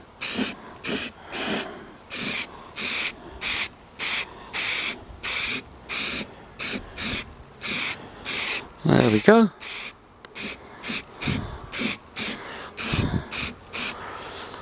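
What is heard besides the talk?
spray paint being sprayed on a garden incinerator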